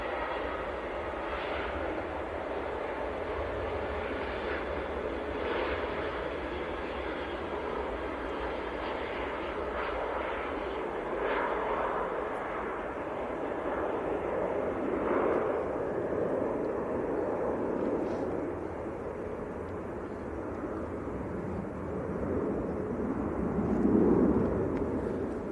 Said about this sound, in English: Ryanair on the roll, departing to Funchal down in Madeira.